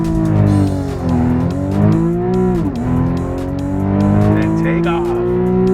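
A 2012 Porsche 911 engine revs hard under launch control, then pulls away in a steady, loud climbing roar with rising gear pitches and a brief dip at a shift, heard close from inside the car.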